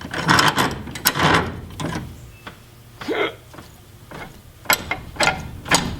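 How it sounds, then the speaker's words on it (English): A nut being worked off a stubborn bolt with a hand tool, giving a run of close, loud ratcheting clicks and metallic scrapes in uneven bursts with short pauses between them. "now we're just going to take this doodad here and pull the nut off of it"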